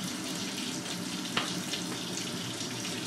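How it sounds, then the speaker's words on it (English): Water runs steadily from a sink faucet during handwashing, a constant close hiss and splash with one brief knock partway through. "Turn off the faucet."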